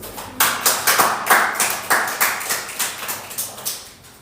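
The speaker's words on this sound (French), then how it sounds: "applaudissez pour vous-même" A small group claps in a sparse, uneven run of about fifteen distinct claps lasting roughly four seconds, each hit sharp and close, with no voices.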